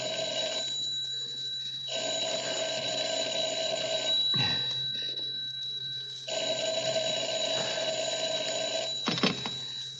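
A telephone rings in a radio drama, a bright electric bell in long repeated bursts with short gaps, loud and close, over a steady background hum.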